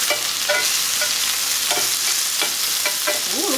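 Shrimp seasoned with salt and pepper fry in hot oil in a pan, giving a constant bright hiss with a few scraping strokes as the pieces are moved around.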